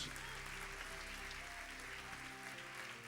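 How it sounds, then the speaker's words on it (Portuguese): A church congregation claps during a Portuguese-language sermon, sustained applause over a droning hum of sustained low musical tones, steady throughout. "Quantos podem aplaudir ao Senhor em nome de Jesus?"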